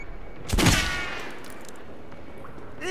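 Gunfire in the video game Metro Last Light: a sharp, loud burst of shots that rings out and decays into a faint rumble, followed by quiet ambience and small clicks.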